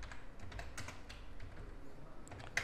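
Computer keyboard keys tapped at an uneven pace while C code is entered, soft close clicks with a few sharper strokes, quiet with no talking.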